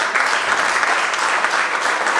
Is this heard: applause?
yes